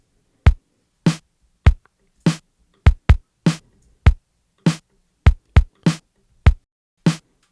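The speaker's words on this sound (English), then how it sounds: "I'm just going to make a very basic pattern with kick and snare," A basic kick and snare beat from an Ableton DMX drum kit plays alone as dry, punchy hits in a steady repeating pattern, with no other instruments.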